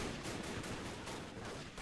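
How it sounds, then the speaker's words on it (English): Artillery battery of three guns firing a barrage in a war video game set during the Japanese invasion of China, a dense, continuous roar of overlapping blasts and rumbling detonations filling the whole stretch. "the battery back here is gonna open up in a beautiful barrage"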